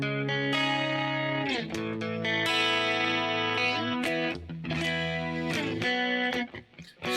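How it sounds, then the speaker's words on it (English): A Fender Stratocaster electric guitar played through effects, sustained chords and swirling notes ringing out loud and continuous with no talking. "Strat has a very unique sound."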